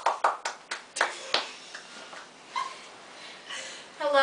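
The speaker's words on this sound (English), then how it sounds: "Thank you for cheering." An audience claps at a Moby Dick project presentation, a few sharp bursts of applause at first that thin into scattered claps and faint cheering.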